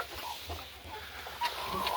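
A broody hen on a poultry farm clucks in short, repeated bursts against a steady low background hum, with a brief sharper call near the end.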